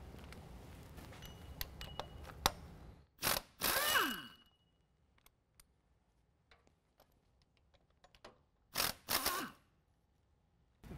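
Ratchet loosening 18mm differential bolts on a 2014-2017 Chevy 1500 4WD truck during a lift kit install, heard as two brief bursts of rapid clicking separated by a quiet stretch with faint metallic taps.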